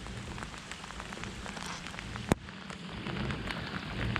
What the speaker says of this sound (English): And then the rains came that we had avoided all morning.